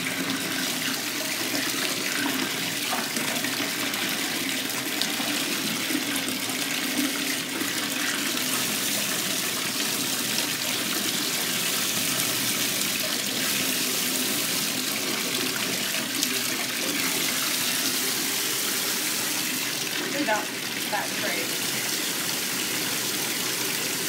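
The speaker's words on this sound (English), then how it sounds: "turn on the water and create her some bubbles" Tap water gushes steadily into a bathtub for a bubble bath, a continuous broadband rushing splash that stays loud and even throughout with no talking.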